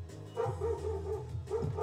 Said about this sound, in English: Put your dogs inside your house and you can't shut them up.